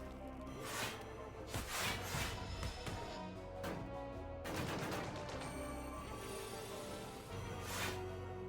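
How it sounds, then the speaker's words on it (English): Video game gunfire from Slay the Spire 2 sounds as bursts of sharp shots and rattling volleys. The bursts repeat several times at moderate volume over a busy musical backdrop. "Bullets."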